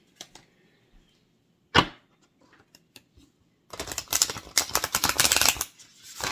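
Oracle cards being shuffled by hand, a few sharp isolated riffles and taps followed by a dense, crisp burst of rapid papery flicking, close and clear with no talking.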